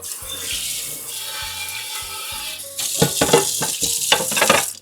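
Teriyaki sauce simmering and bubbling in a pan over a sink, a steady sizzling hiss joined by louder clustered bubbling and popping in the second half, close and alone.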